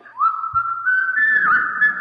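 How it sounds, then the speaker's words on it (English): Someone whistles the tune Yankee Doodle in a clear, steady melodic line, close and fairly loud, with a faint background beneath. "Somebody's whistling. It's Yankee Doodle."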